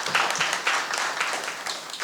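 Audience applause for the Rotary at a town council meeting in Altadena, a steady wash of clapping hands from a roomful of people, fairly loud and continuous.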